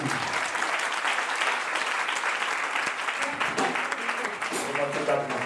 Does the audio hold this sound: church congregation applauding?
yes